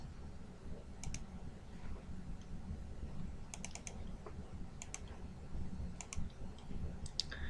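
Soft computer mouse clicks in small clusters of two to four, spread across a quiet room with a low steady hum beneath, as a file is picked for upload.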